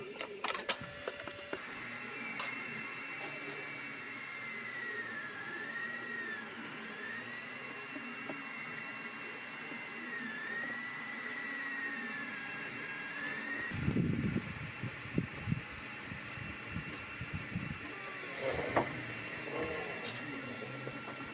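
A 3D printer at work on an object, giving a steady mechanical whir with a gliding, warbling motor tone and intermittent clicks and rattles of the print head, heard close and continuous with no voices.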